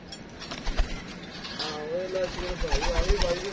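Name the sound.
pigeons cooing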